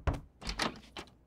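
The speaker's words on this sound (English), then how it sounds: "you knock on the door here" Knocking on a door in an animated show, with three or four firm, close, hollow knocks in a quick uneven rhythm and no talk.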